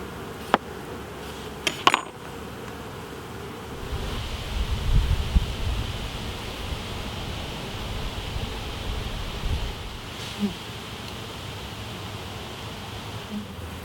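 Honeybees drone around an open backyard top-bar hive, a low, continuous buzz swelling close to the microphone with wind rumble, after a few sharp knocks at the start.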